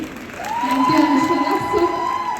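An audience at a college event, a film promotion at St. Teresa's College, cheers and whoops loudly and steadily, with excited voices rising over the crowd noise.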